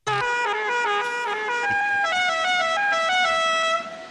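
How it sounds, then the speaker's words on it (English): A car horn honks in a loud, sustained blare of steady tones, lasting about four seconds before cutting off, with no talking over it. "Honk the horn."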